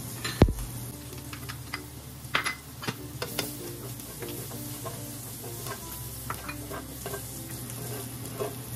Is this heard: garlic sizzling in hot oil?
yes